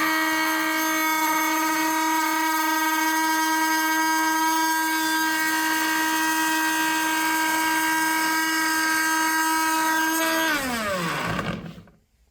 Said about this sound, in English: Now we have the Milwaukee versus the oak hardwood.